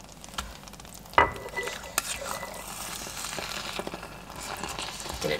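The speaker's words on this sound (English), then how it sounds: "I'm gonna stir my butter in." Butter being stirred into risotto in a multicooker: a spoon scrapes and slides through the thick rice with soft irregular clicks against the pot, a low simmering sizzle underneath, steady and close, no voice.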